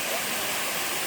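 Waterfall in Butuan City, a steady broadband rush of falling water that fills the whole short moment at close range with no break.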